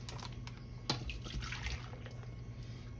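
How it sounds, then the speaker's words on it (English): Pineapple juice splashes into a bowl of plums, a wet, trickling pour with a few sharper splashes and drips, heard close with no voices. "Pour that pineapple juice in there, kind of rinse that"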